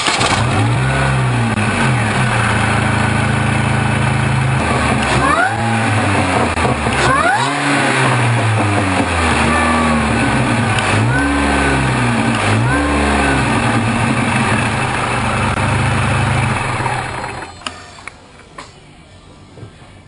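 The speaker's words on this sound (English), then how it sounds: "Here we are going to see the operation of the bypass valve opening and closing" A Mini Cooper S engine revs repeatedly in rising and falling sweeps while its bypass valve opens and closes, loud and close, before the revs drop away and it settles near the end.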